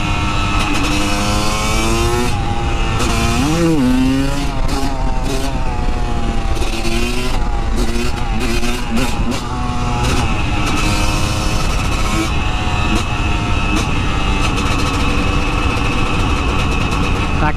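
A Honda CR250 two-stroke supermoto motorcycle being ridden, its loud, raspy engine revving up and down continuously with rising and falling pitch, close up and with no talk.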